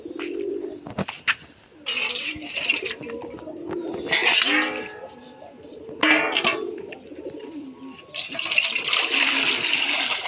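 Pigeons coo and flutter close by while water is poured from a mug for them, the splashing coming in uneven bursts between the birds' soft calls.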